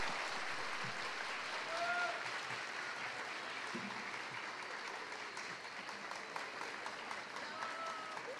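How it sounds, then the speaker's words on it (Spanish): An audience at an eighth-grade graduation ceremony applauds, a faint, distant and steady wash of clapping with a few thin whistles or tones and murmuring voices mixed in. "El aplauso, por favor"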